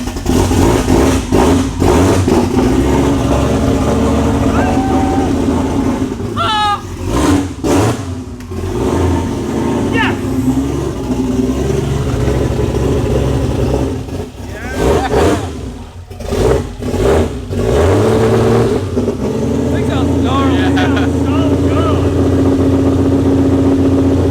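A Ford Mustang GT350 fitted with a swapped Barra engine cranks and fires for its first start, a loud close engine roar that holds steady with brief rises in revs, with little talk.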